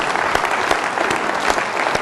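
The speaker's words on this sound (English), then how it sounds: "Big round of applause, please." Loud, full audience applause at a hiring keynote, a dense steady clapping roar from many hands with a few sharper claps standing out and no talking.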